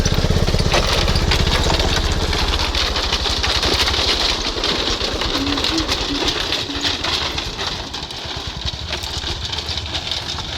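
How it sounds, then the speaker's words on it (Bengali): A motorcycle crosses a bamboo bridge over a river in a forest, its engine droning steadily and close throughout with a low, even rumble. "নদীর উপরে বাঁশের উপর দিয়ে বাইক নিয়ে যাচ্ছে"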